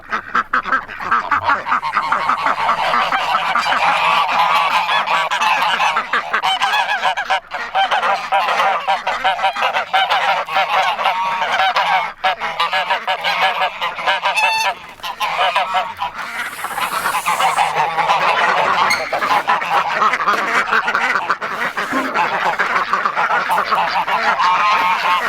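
Farm ducks and geese calling on a farm, a loud, dense chorus of continuous quacking and honking close by, with a few brief words spoken.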